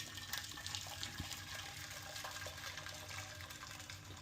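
Fresh water poured into a hot oven to make steam for baking bread, a low, continuous splash and hiss with small crackles, close and fairly quiet.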